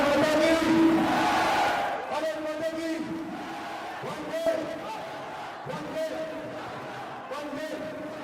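Home crowd at an international amateur boxing bout in Brazil roaring and chanting in a large arena, a sustained loud swell of voices that eases after a couple of seconds into a steady background roar, with commentary talk over it.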